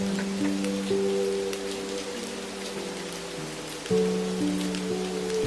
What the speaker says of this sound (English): For example, you can play some rain sound like this.